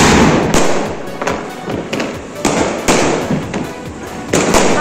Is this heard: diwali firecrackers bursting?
yes